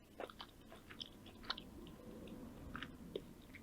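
Muesli being chewed right up against a microphone, with moist crunchy bites and clicks in an irregular rhythm, close and intimate with no talking.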